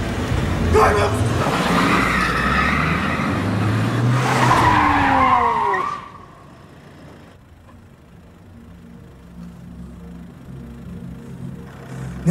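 A car in a police chase skids hard with tires squealing in loud, wavering screeches over a revving engine and shouting voices, then cuts abruptly to a quiet, low rumble.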